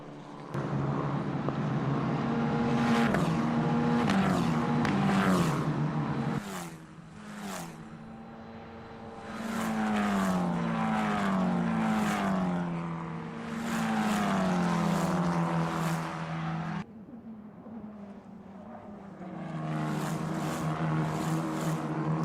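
Italian F4 single-seater race cars battling at the Vallelunga circuit during a final race, loud close engines whining and revving continuously with rising and falling pitch sweeps as they shift and brake.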